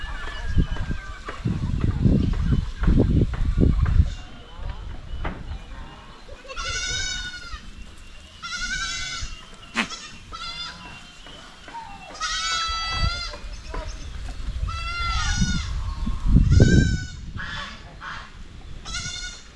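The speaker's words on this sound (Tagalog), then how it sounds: "yung mga gwapo nating kambing, mga lalaki po sila" Male goats on a farm bleating repeatedly, several overlapping wavering calls at close to middle distance, with a person talking in between and under the calls.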